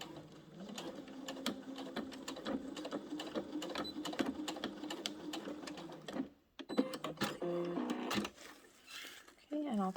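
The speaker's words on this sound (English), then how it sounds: "I'm going to stop stretching and back stitch" Sewing machine back stitching leg elastic on a cloth pocket diaper, a steady rapid whirring run that halts briefly then resumes in short bursts, with a voice talking over it.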